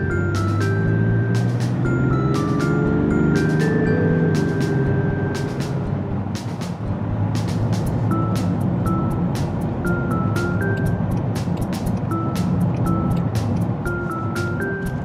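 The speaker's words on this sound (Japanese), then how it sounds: "今ね30キロから80キロまで加速して合流したんですけれども" A Land Rover Defender 110 D350 diesel, towing a trailer, accelerates from about 30 to 80 km/h to merge onto a road, giving a loud, steady engine and road drone that climbs gradually, with repeated sharp ticks over it.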